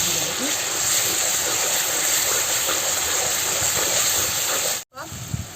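A paste of onion, coconut and coriander fries in hot oil with a loud, steady hiss and crackle that runs without a break until a brief cut near the end.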